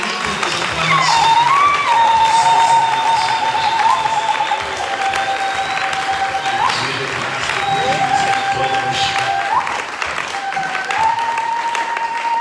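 Congregation at a church service applauding and calling out acclamations, a loud sustained wash of clapping with sustained tones, likely music or voices, running through it.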